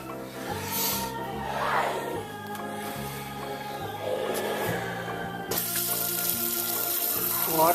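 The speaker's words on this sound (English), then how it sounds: "Water going down into the now" Water runs and gurgles down a drain, a rushing swirl that grows louder near the end over a faint musical backdrop.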